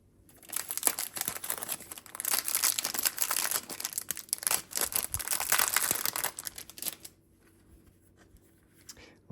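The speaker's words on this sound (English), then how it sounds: "Just take some glass cleaner and clean off the glass surface, remove the grease from both sides." Rubbing and wiping of glass cleaner across the grease-coated glass surface of a Best P195P kitchen range hood, with dense crinkly scrubbing swishes close by for several seconds before it trails off.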